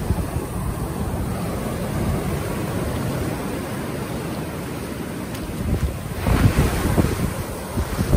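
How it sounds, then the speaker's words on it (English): Wind blows steadily across a small fishing boat out at sea, a continuous broadband rush with water wash beneath it, swelling into stronger gusts toward the end, with no talking. "it's starting to get a little breezy"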